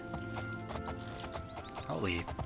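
Hooves clip-clop in a quick galloping rhythm in the video game Oblivion, under voices and background sound, ending with a horse's whinny.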